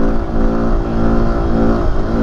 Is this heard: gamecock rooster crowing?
no